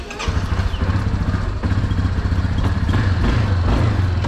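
A Honda Sahara 300 motorcycle engine runs close and loud with a steady throbbing chug, revving slightly as the bike sets off, no talking.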